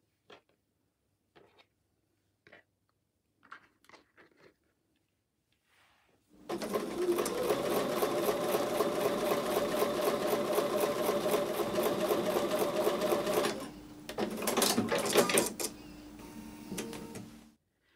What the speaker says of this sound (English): I'm going to go over to the sewing machine now and sew with a 1/4 inch seam allowance.